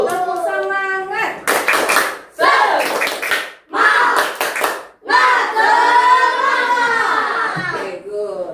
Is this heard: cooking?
no